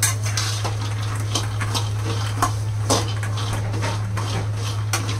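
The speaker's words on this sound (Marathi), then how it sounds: "शेंगदाणे भाजून घेऊया, मीडियम गॅसवर भाजूया" Peanuts being dry-roasted in a pan over a medium gas flame and stirred, giving steady light scraping and clinking of nuts against metal over a constant low hum, with no talking.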